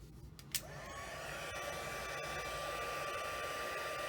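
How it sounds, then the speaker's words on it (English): A heat tool drying watercolor paper starts up after a couple of soft clicks and then blows a steady, close whooshing roar that holds unbroken to the end. "I'm going to take the heat tool to it"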